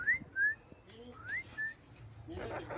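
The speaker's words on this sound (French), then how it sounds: "Son petit oiseau." A small bird in Costa Rica gives a few short rising whistles, clear and fairly close, spaced apart with brief pauses and a faint rustle near the end.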